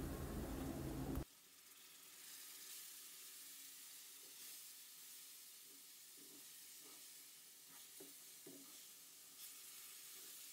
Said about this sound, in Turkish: dikkatli bir şekilde şerbeti azar azar dökerek veriyorum